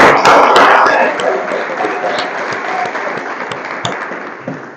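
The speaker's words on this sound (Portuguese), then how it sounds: "Dá uma salva de palmas para Jesus aí." A class audience at a pastors' therapy lesson breaks into loud, close applause, strongest at the start and then thinning into scattered, tapering claps.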